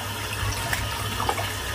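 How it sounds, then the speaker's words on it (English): Running tap water splashes steadily over an enormous shaving brush being rinsed of lather, a continuous moderate hiss and patter with a low hum underneath. "I'm just going to rinse the brush out now."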